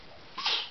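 A single short, breathy sneeze bursts out at close range in a quiet room, a brief sharp puff of air after a moment of near silence.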